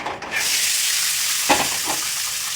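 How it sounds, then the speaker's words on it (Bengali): Chickpeas fry in hot oil with a steady, loud, close sizzle that fills the whole stretch, broken by a brief scraping stir partway through. "তেল বেশি গরম করলে গাইস আমি ছোলাগুলো দিয়ে দিচ্ছি কিন্তু তেলের ভিতরে"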